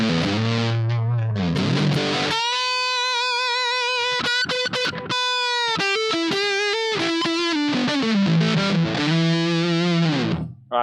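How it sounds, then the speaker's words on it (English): A heavily fuzzed electric guitar through a 1973 Electro-Harmonix Ram's Head Big Muff Pi model plays thick, sustained notes and short riffs, saturated and buzzing, with brief gaps between phrases. "Let's go to the Bighorn Fuzz, which is the 1973 Electro Harmonix Ram's Head Big Muff Pie."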